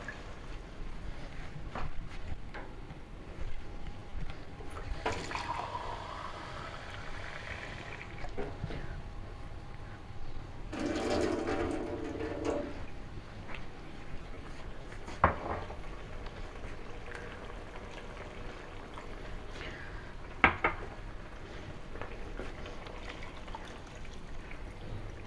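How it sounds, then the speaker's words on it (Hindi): Water poured into a pot of half-cooked peas for pea pilaf, a low sizzling and gurgling wash with occasional splashy bursts and clinks of the pot, fairly quiet and without talk. "मैं इसमें अब पानी डालूँगी"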